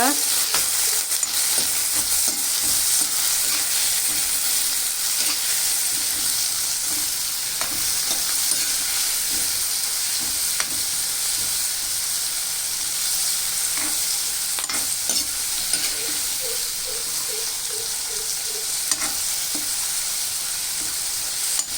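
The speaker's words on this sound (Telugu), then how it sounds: "ఇవి బాగా వేపుకోవాలండి పచ్చివాసన పోయే వరకు." Shrimp fry in a pan with fried onion pieces for a ridge gourd curry, giving a continuous loud sizzle with repeated scraping stirs of a spatula against the pan, close up and without talking.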